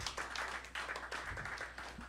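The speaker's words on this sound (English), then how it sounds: "please clap" An audience claps in a room, a dense continuous patter of many hands with a few sharper individual claps standing out, steady throughout with no voices.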